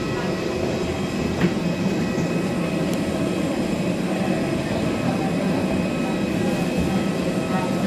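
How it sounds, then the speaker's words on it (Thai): Aircraft tow tractor moving at an airport, a continuous low vehicle rumble with steady engine drone and faint clicks, heard up close and alone. "คันนี้แหละครับที่จะลากเครื่องบินเคลื่อนที่ที่สนามบิน"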